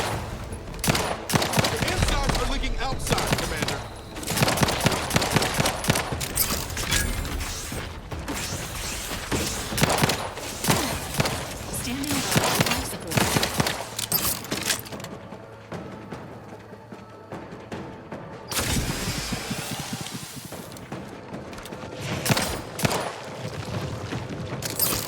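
Rapid bursts of artillery and gunfire from The Outer Worlds 2 crackle and thud in dense, repeated volleys, loud and near, with mechanical clatter between shots and a brief lull before another heavy barrage.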